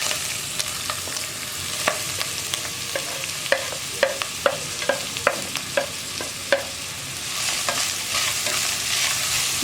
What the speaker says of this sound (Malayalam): ഇഞ്ചിയും വെളുത്തുള്ളി ഒന്ന് ചൂടായി തുടങ്ങുമ്പോൾ നമുക്കിതിലേക്ക് നമ്മൾ കട്ട് ചെയ്ത് വെച്ചിരിക്കുന്ന സവോളയും പച്ചമുളകും ചേർക്കാം.